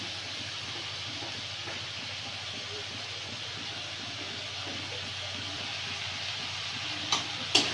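Meat crackles in hot white oil in a pan, a steady close hiss that continues evenly, with a couple of small sharp pops near the end.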